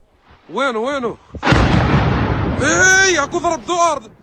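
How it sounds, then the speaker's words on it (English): A rocket strike explodes in a Druze Arab community a few kilometers from Lebanese territory, as a single loud, broad blast and rumble that erupts between shouting voices and fades under further cries. "This was the moment the rocket struck."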